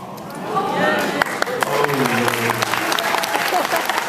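An audience at a Lords of Time fan convention in Auckland, New Zealand breaks into loud applause for an actor on stage. The clapping swells quickly and stays steady and close, with a voice heard briefly under it.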